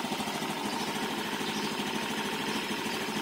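A Honda Genio scooter engine idles in the morning with a steady, continuous mid-pitched hum, close and even throughout with no voices.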